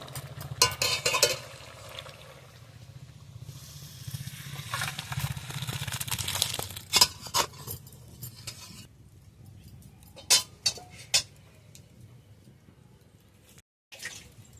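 Cooked chickpea dal is poured out of a pot, thick wet sloshing and dripping up close, with scattered metallic clinks of a utensil against the vessel and quieter pauses between pours.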